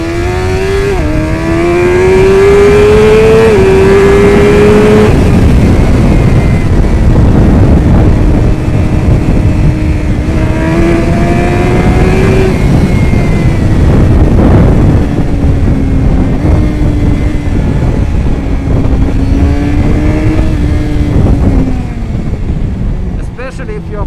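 Suzuki GSX-R600/750 sport motorcycle accelerating hard on a street, engine revs climbing through repeated rising sweeps between gear changes, loud and close with steady wind and road roar throughout.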